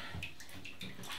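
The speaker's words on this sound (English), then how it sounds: "I'm going to get my brush wet" A shaving brush is held briefly under running tap water, giving a soft close splashing and trickle with faint gurgles over about a second, quiet and without speech.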